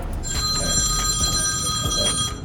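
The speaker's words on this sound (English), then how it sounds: "Phone is ringing all the time." A telephone rings in a busy office, its bright, continuous bell tone sounding clearly throughout with no talking over it.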